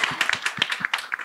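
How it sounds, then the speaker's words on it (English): A small audience at a property panel discussion gives a round of applause, scattered close handclaps in a quick, uneven patter. "Round of applause."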